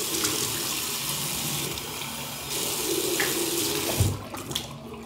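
Tap water runs steadily into a sink during face washing, close and continuous, with a few splashes near the end.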